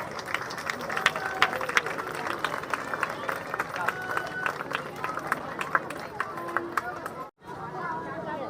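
An audience claps in scattered, uneven bursts, mixed with steady crowd chatter and murmuring voices, with a brief dropout near the end.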